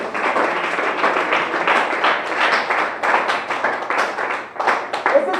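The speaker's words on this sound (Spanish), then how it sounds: "Dele ese aplauso al Rey de la Gloria." Applause during a church service, a sustained bed of many hands clapping at steady loudness for several seconds, dense and continuous without a break.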